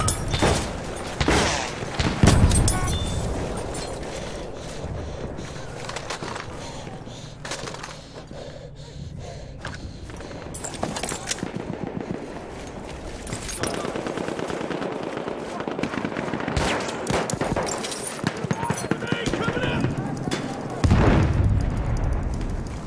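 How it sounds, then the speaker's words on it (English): Enemy machine gun fire in the video game Battlefield 1, rapid automatic bursts mixed with explosions and battlefield chaos, loud and dense throughout, with shouted voices over it. "It's an enemy machine gun!"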